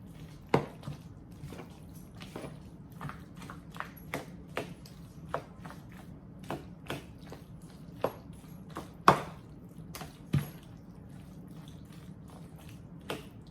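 Spoon mixing sour cream into mac and cheese, soft irregular squishing with sharp clinks of the utensil against the dish, close and quiet over a low hum.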